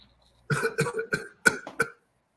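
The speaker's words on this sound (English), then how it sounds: "So we cough, not because anything's wrong with the lungs, but because the trachea doesn't like cold." A run of about six dry, close coughs in quick succession after a brief silence.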